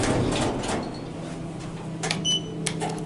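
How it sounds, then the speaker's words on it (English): Schindler 3300 machine-room-less elevator door at a hotel sliding shut, a steady mechanical rumble with soft whirring, then a couple of light clunks and a short electronic tone near the end. "Door closed but works."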